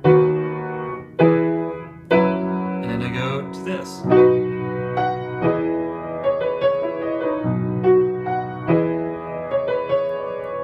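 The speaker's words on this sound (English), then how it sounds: "Little piano figure there in between the verses" Piano chords are struck in a steady rhythmic pattern, ringing close and clear, with a brief spoken remark over the start.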